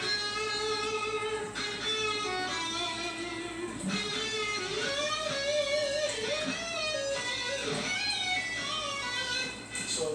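An electric guitar solo phrase played an octave higher than the rhythm part, a continuous run of sustained melodic notes with slides and bends at steady, full loudness.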